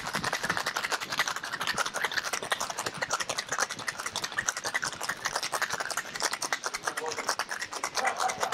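Cocktail shaker holding vodka and a tomato water, zucchini and red pepper cordial is shaken hard at a bar, giving a steady rapid rattling and scraping of ice that runs throughout, with a voice talking over it.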